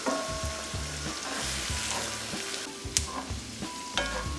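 Vodka pasta sauce simmers in a pan with a steady, close frying sizzle, broken by soft bubbling pops and a few sharper clicks, with no one speaking.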